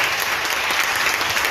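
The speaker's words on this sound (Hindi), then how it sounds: "थोड़ा और जोर से एक अच्छी ताली बजाकर यीशु के लिए बनेगा।" A church congregation claps for Jesus in a loud, continuous wash of applause, steady throughout with no voices standing out.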